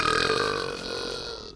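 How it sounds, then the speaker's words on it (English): A single long, loud, drawn-out burp rumbles for over a second. It is close and clear and fades slowly at the end, with no other sound. "Hey, that burp almost sounded like his."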